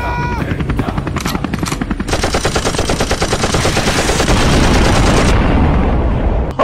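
Rapid bursts of gunfire in a Nigerian comedy skit, first scattered shots and then a sustained, loud machine-gun-like fusillade that holds steady before cutting off abruptly.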